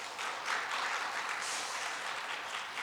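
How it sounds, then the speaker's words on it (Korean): A church congregation at a Sunday afternoon service applauds its officers, a steady, fairly faint wash of many hands clapping that continues evenly with no voices. "박수해 주시기를 바랍니다."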